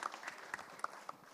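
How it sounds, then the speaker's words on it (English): Sparse, faint clapping from a conference audience at a real estate awards panel, a few scattered distinct claps spread over a short moment rather than a full ovation. "let's clap for ourselves"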